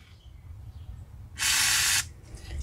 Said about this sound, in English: Spray some lubrication in there.